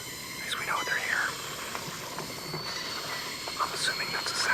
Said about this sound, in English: I'm assuming that's the sound of cicadas in the background.